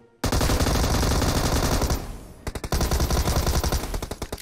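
Loud, close bursts of rapid automatic gunfire from a mobile battle-royale shooter match, sustained rattling volleys broken by a short pause, then a further string of sharp individual shots.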